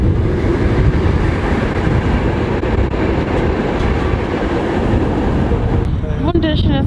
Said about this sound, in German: Jetzt kommt eine Tram.